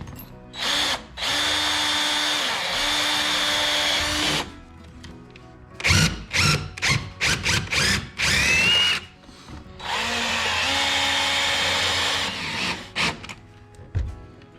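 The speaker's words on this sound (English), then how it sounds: "Now we need to drill out for the last 2 mounting points." A power drill bores mounting holes in a jon boat side console. Long, loud whirring runs alternate with bursts of short trigger pulses, all close, with no speech.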